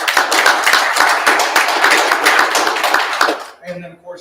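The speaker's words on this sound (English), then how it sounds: "If you don't mind, can we give them a round of applause?" A small audience applauds county officials at a State of the County address, with brisk, close claps for about three and a half seconds that stop abruptly, then a voice begins.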